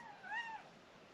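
A kitten gives a single short, faint meow with a rising then falling pitch, alone against quiet background.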